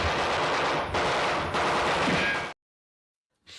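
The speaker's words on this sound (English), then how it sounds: "it's literally like 8 seconds of gunfire" A dense, loud burst of rapid machine gun fire rattles continuously for about two and a half seconds, cuts to silence, then resumes briefly at the end.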